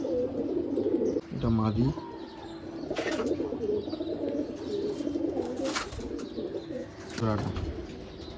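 Pigeons at a bird sale in Ichapur, West Bengal, coo in a few low throaty bursts close by, while someone talks over them.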